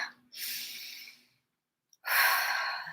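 Two deep breaths taken close up, a long airy inhale followed by a pause and then a strong, rushing exhale, with no talking.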